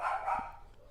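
A dog gives a single short, faint bark indoors, briefly overlapping a muffled voice and then fading into quiet room tone.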